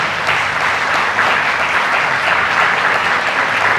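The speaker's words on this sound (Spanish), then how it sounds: "Pido un aplauso para el doctor Germán Escarrá" A loud, sustained round of applause for Dr. Germán Escarrá rises from the audience at a constitutional law talk, many hands clapping in a thick, unbroken wash from start to finish.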